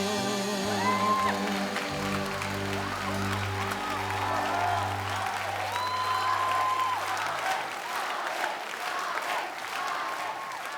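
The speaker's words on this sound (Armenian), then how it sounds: "Մինչ ժյուրի անդամները ծափարում են հայ սուպերստար 6-ի հաղթող Արեգին" Jury members and studio audience applauding the winner of the Armenian TV talent show Hay Superstar 6, sustained clapping under music with a melodic line and bass, fading slightly toward the end.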